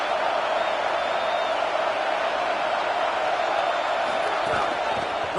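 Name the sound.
home crowd cheering in a college football video game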